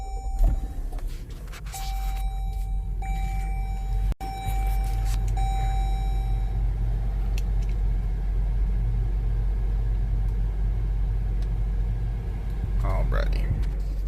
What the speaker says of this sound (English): We're going to push the button to start.